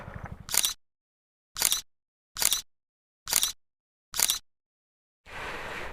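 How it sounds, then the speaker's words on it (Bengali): Camera shutter firing five times in separate crisp clicks, evenly spaced and close, while photos are taken beside a rubber plantation on the road, with faint outdoor ambience before and after. "এখানে জুত করে ছবি তুলি কয়েকটা"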